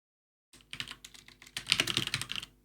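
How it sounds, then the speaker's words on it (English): Fingers clatter on a computer keyboard while entering text into a browser address bar, two quick bursts of close, crisp keystrokes separated by a short pause, with no voices. "I'm very careful with what I'm typing into the address bar"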